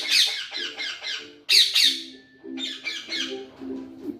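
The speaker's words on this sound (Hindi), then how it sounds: "स्क्रीन के साथ बोल रहा है, अंदर वाले तोते को जवाब दे रहा है।" A pet parrot squawks back at a parrot on a screen, a string of loud, harsh, raspy calls in bursts with brief gaps, close by and with no one talking.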